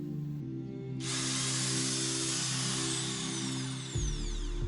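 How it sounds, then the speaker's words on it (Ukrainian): An electric metal shears motor hums steadily, then a loud hissing, grinding cut through metal fence sheeting starts and runs for a few seconds before the motor pitch drops. "Взяв в оренду електроножиці."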